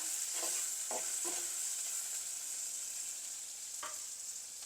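Ingredients for an egg curry, including tomato, sizzle steadily in a hot pan, a constant bright frying hiss broken by a few soft scrapes of stirring.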